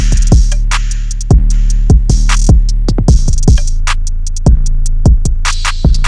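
A punchy electronic trap beat with deep booming bass hits, crisp rapid hi-hat ticks, open hats and occasional washy crash cymbals, loud and upfront with no vocals.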